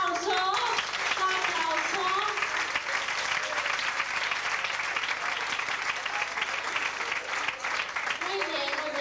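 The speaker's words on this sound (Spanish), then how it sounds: "Un aplauso." A studio audience at a Valencian falla television show gives steady, dense applause that fills the whole stretch at an even, moderate loudness.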